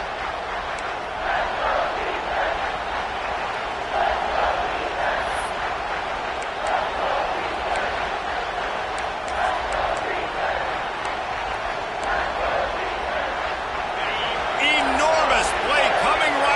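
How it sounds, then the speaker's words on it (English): A football stadium crowd roars steadily through a tense third-down play, a dense, sustained wall of cheering that swells louder near the end, with a commentator talking over it. "3rd down, and this crowd is bringing down the house."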